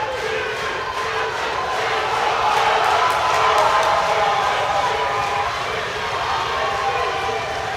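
A large arena crowd roars and cheers continuously behind a powerlifter at the World Classic Powerlifting Championships, a dense, loud wash of voices swelling slightly mid-clip with whoops and shouts throughout.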